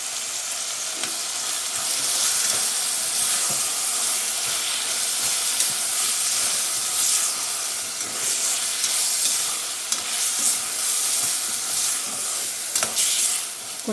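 Country chicken pulao ingredients with yogurt fry in a pan with a loud, steady sizzle and hiss, broken by occasional stirring scrapes, with no talking.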